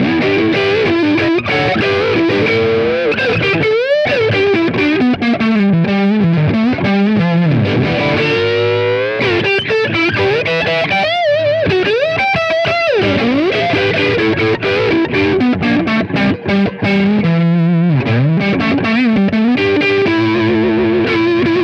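Electric guitar played through an Orange OR50 amp head into a cabinet, giving a loud, saturated distorted tone with sustained bends and shifting melodic lines, played continuously up close with no talking.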